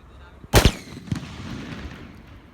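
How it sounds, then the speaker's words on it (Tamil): Two homemade paper firecrackers go off almost together as two sharp, loud bangs, followed by a smaller pop and a fainter one as the noise settles. "ஒரே டைமில் ரெண்டுமே வெடிச்சிருச்சு போல"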